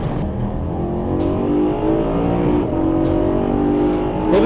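A BMW M3 E92 accelerates hard on a race track, its engine note climbing through the revs in a loud, continuous, close-up roar with rising harmonic tones and brief shifts.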